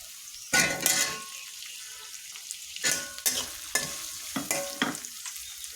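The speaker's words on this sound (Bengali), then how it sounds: "আমার তেলটা গরম হয়ে গেছে দিয়ে দিলাম পেঁয়াজ দিয়ে দিলাম এখানে একটু রসুন কুচি" Onion and chopped garlic dropped into hot oil and stirred for a fish curry, giving bursts of loud close sizzling and spatula scraping in several waves with quieter gaps between, no talking.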